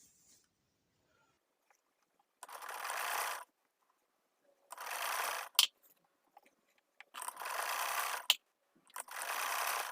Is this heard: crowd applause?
no